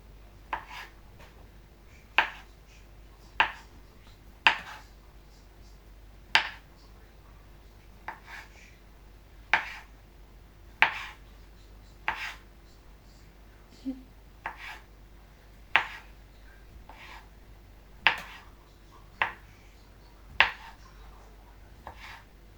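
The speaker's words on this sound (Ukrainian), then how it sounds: "беремо сосиску і сосиску. Нарізаємо її просто на крузочку." A knife cuts a sausage into rounds on a board, giving sharp, evenly spaced taps about once a second, close and crisp against a quiet room.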